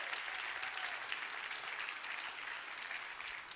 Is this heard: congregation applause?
yes